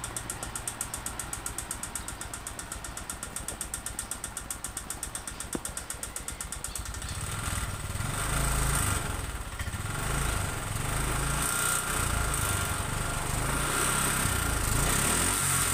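A Honda Vario 125 injection scooter engine running with a knocking fault, first a fast even ticking idle, then revving up into a louder, rougher drone that holds steady to the end, close and with no talking.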